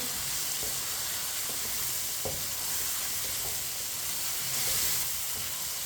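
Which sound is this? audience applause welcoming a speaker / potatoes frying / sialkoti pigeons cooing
potatoes frying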